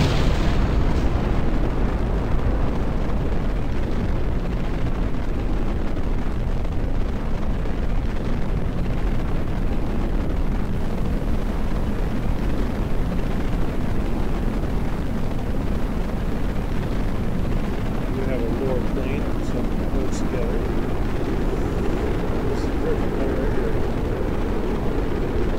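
A simulated rocket launch with a Sergeant-cluster second stage and sequentially fired motors produces a long, loud, continuous roaring rumble that keeps steady for over twenty seconds.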